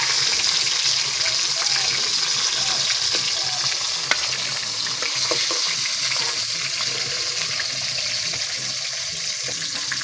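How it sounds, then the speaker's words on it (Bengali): Pieces of pangas fish fry in hot oil in a wok, giving a continuous loud sizzle with small crackles and stirring scrapes throughout, with no talking. "সব মাছগুলো লাল লাল করে ভেজে নিয়েছি"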